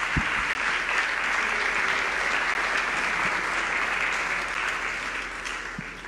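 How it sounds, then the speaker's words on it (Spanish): Audience at a jazz festival in Campeche breaks into sustained applause, a dense, steady wash of many hands clapping that carries on for several seconds before easing slightly, with no talk over it. "Un aplauso, por favor."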